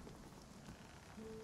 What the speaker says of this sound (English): A little bit of rain and thunder.